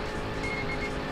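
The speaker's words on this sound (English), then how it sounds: "I really wish they didn't add that stupid beeping thing for the red line." In the racing video game Auto Modellista, a steady high redline warning beep sounds in short repeated tones over the constant drone of a car engine held at high revs.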